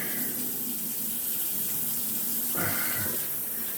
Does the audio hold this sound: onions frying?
no